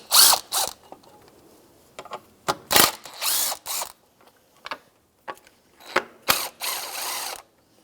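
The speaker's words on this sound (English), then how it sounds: "I'm going to remove the upper bracket for that covers the belt, drive belt, 10mm socket." A ratchet with a 10mm socket loosens the drive belt cover bracket on a 2004-2009 Subaru Outback, giving bursts of rapid clicking ratcheting separated by short pauses and faint clinks, close and loud with no talking.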